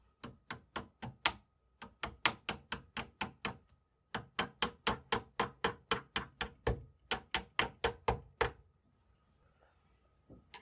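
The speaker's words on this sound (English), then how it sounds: "with a few light taps, I'll seat it up until the threads" Light hammer taps seat a pin screw into a milsurp firearm part, a long series of sharp, evenly paced metallic taps in quick runs with brief pauses between groups, close and clear with no voices.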